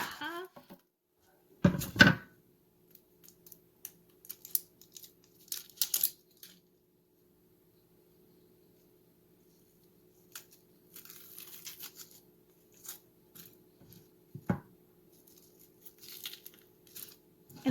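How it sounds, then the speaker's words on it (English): A knife cuts through a peeled, halved onion on a cutting board. Sparse, crisp slices and crunchy taps come in short scattered bursts, separated by long quiet gaps. "And I'm just going to dice the onions"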